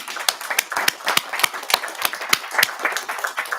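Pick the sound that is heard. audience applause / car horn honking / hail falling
audience applause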